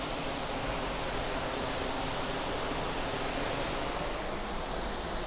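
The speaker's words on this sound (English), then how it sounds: "Can you hear the sound of water?" Steady rushing flow of water in a Japanese garden at Hotel New Otani Tokyo, a broad constant hiss like a cascade or stream, close and unbroken with no voices.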